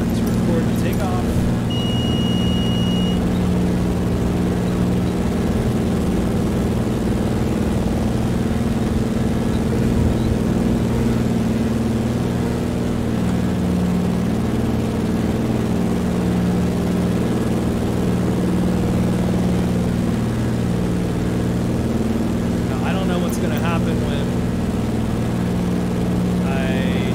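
A DHC-2 Beaver's engine held at full power for takeoff in Microsoft Flight Simulator, a steady loud propeller drone running throughout with little change, while a voice talks over it.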